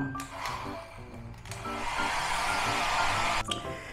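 A hair dryer runs steadily in a hostel room, a broad continuous blowing whoosh that starts and stops briefly with a few clicks and handling noises, fairly faint and with no talk.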